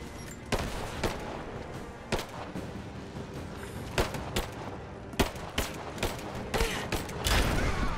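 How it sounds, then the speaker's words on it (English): Grenade blast and rapid gunfire in the Rise of the Tomb Raider video game, mine level: repeated sharp shots and booms in bursts over steady game noise, with a heavy burst near the end. "Grenade out!"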